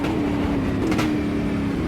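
Drivetrain wobble of a Brazilian Stock Car as it runs over track bumps and ripples in a racing simulator, a dense, steady rumbling engine and road drone with a low throbbing wobble, loud and continuous.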